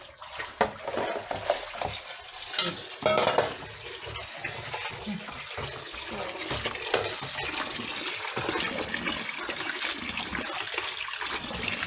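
Fish being washed by hand in a bowl of water, a steady wet sloshing and splashing at close range that continues throughout with brief clinks, no talk.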